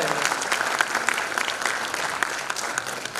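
Dense, close applause fills a school annual function, many hands clapping steadily and loudly throughout without talk.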